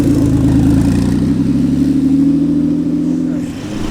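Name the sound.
Ford GT sports car engine revving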